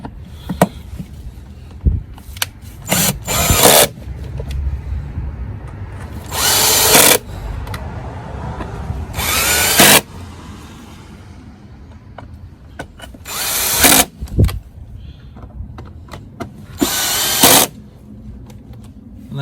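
A cordless drill drives screws to refit the air filter cover on a VW 1.4/1.6 engine. Several short, loud whirring bursts come up close, separated by quiet pauses with light handling clicks, and no one talks.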